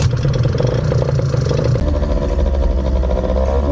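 A 50cc moped fitted with a Malossi variator kit revs at full throttle, its engine loud and close with a strained buzzing drone and clattering that shifts pitch about midway.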